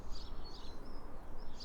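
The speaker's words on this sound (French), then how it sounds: "Vous entendez les oiseaux?" Birds chirp and sing faintly in the morning air, with short high calls recurring every half second or so over a steady low background hum.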